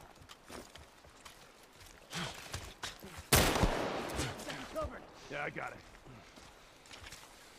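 Sniper gunfire in The Last of Us Part 1 video game: sharp shots crack out at intervals, one especially loud and close, while a voice talks between the shots.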